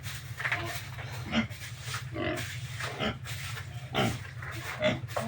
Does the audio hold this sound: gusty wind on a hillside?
no